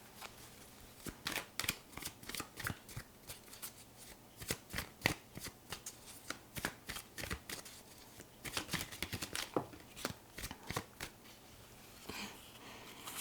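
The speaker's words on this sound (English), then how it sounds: "And we will now get into some tarot cards." A deck of tarot cards is shuffled at close range, soft papery riffles and snapping flicks repeating in bursts over a quiet background, with no talking.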